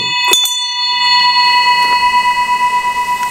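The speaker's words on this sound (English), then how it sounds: "don't forget to hit the bell" A bright bell on a steam-powered carriage rings once and its tone lingers, ringing on steadily with a slow pulsing decay over a faint mechanical background.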